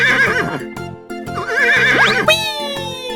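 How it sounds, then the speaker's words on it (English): Horse neighing in an animal video game, loud close whinnies with wavering, falling pitch, set over a looping rhythmic game music bed with clip-clop style beats. "Horse."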